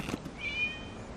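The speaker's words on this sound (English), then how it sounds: "It was just a cat." A single short, faint cat meow rising and falling briefly, heard after a soft knock against a quiet background.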